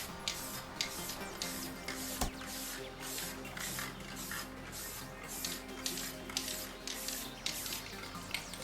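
Spray paint hisses onto a metal leg of a vintage studio console, a near, continuous spray broken into rhythmic pulses of repeated short bursts, with no talking.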